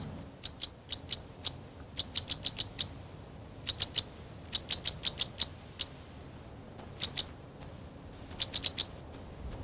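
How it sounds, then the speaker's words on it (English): A sunbird perched on the tall flower column of a giant lobelia in the Virunga highlands gives bursts of rapid, high, thin chirps in quick series, with pauses between runs, clear against a quiet background. "A sunbird sits on the 10-foot flower column of a giant lobelia."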